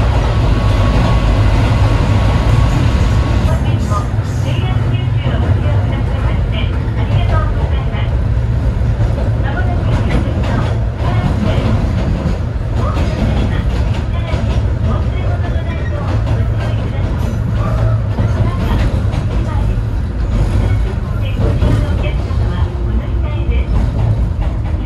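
A JNR 103 series rapid train runs fast along the elevated Chikuhi Line, heard from inside as a loud, steady rolling rumble throughout while someone talks over it.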